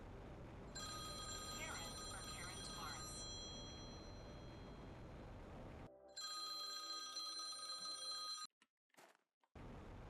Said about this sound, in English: I had to pause the recording to take a phone call.